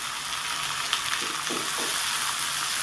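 Ridge gourd and onion being fried and stirred in a pan, a steady broad sizzle with faint scraping stir sounds underneath, close and continuous without speech.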